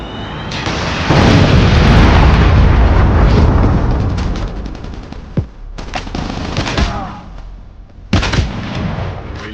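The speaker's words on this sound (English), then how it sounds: "Predator missile inbound." A Predator missile strike in Call of Duty Mobile lands as a loud, roaring explosion that rumbles for several seconds, then trails off into scattered sharp bangs and crackling pops of gunfire.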